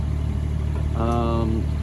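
A roughly 14-year-old Kubota U15 compact tracked excavator with about 1,200 hours idles steadily nearby during cement pad removal, a low continuous engine drone, with a brief voice-like tone partway through.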